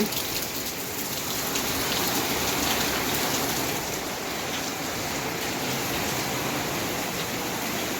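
Heavy unseasonal rain pouring down in Odisha, a dense, loud, unbroken hiss of drops striking the ground and surfaces, steady from start to finish with no voices.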